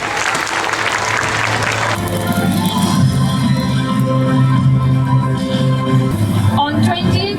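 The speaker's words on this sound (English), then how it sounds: "Students, let's give them a big round of applause for their hard work and dedication" Students at a school proficiency award ceremony applaud their house captains in a short burst of clapping, which soon gives way to music with a sustained tonal backing that carries on to the end.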